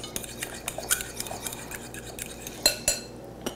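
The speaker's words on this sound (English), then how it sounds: "we're just going to stir that around for a second" Metal spoon stirring buttermilk with white balsamic vinegar in a bowl, giving a run of light, quick clinks and scrapes against the bowl, close and fairly quiet, with two sharper knocks near the end.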